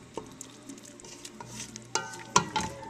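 Ground turkey being stirred in a pan over medium heat, with a soft steady sizzle under scattered scraping and a couple of sharper clinks of a utensil against the pan near the end.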